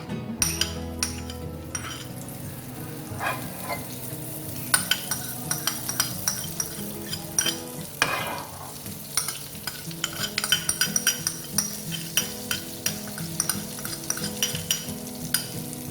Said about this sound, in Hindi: पैन हमारा गर्म हो चुका है और हम उसमें डालेंगे मक्खन